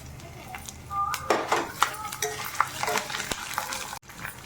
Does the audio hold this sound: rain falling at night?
no